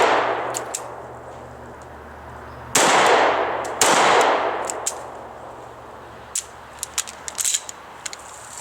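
A Sig P229 9mm pistol firing two loud, sharp close shots with echoing decay, followed by fainter metallic clicks and clanks of handling.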